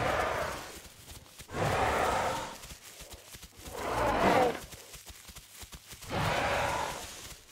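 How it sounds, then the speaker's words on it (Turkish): Raptor calls in The Isle game: three or four drawn-out rasping cries, each about a second long, separated by short gaps with faint thumps and rustle between them. "Raptor'un şu çağırma sesi çok güzel."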